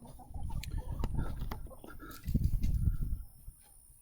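Chickens cluck softly and intermittently nearby, with scattered scratching and rustling noises amid quiet outdoor ambience.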